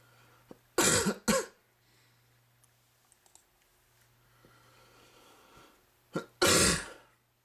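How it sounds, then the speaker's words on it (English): Coughing and throat clearing during an online Yu-Gi-Oh card duel: two loud harsh bursts near the start and another pair near the end, with faint keyboard clicks and quiet room noise in between. "Sorry about all the coughing during the video too."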